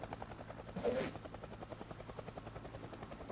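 A helicopter circling near a base in the Project Zomboid video game, its rotor giving a faint, fast, steady thudding pulse throughout, with a brief louder burst of noise near the start.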